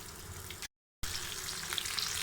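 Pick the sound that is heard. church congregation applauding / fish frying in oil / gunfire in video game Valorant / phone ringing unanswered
fish frying in oil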